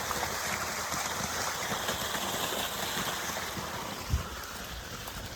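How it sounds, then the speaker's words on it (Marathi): Dam water lifted to a farm flows steadily along a field channel toward onion crops, a continuous gurgling rush with a faint engine-like hum beneath and one soft thump near the end. "धरणातून पाणी लिफ्टिंग केलं आहे आणि इथून डायरेक्ट कांद्याला चाललं आहे"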